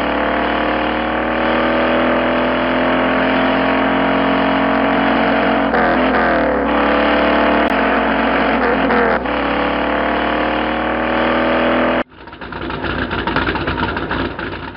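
A car engine in a car performance simulator game, droning steadily with rising revs, cutting off near the end before a rougher burst of engine noise.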